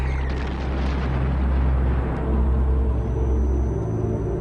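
A deep, sustained rumbling blast like a large explosion, loud and continuous with broad low-end roar throughout, no voices present.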